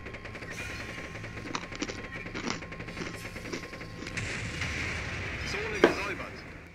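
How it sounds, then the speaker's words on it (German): Gunfire in the video game Beyond Good and Evil rattles in scattered bursts of shots at the player, mixed with game sounds and mostly moderate in level, with speech present. "Oh, schießt der jetzt auf uns?"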